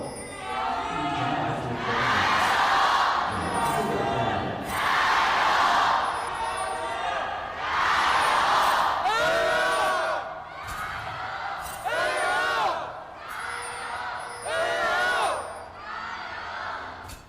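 Esports fans at an LPL League of Legends match between Anyone's Legend and Bilibili Gaming cheer and whoop in loud surging waves, swelling and fading repeatedly in a large arena crowd with no commentary over them.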